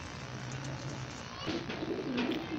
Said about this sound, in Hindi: लो दोस्तों है कबूतर है जी